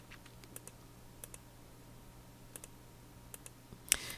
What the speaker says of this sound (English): So what I'm doing is clicking on them individually while I'm holding down my shift key